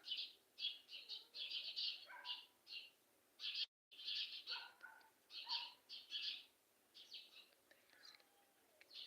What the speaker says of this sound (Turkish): Ağaçta kuşlar örtmeye başladı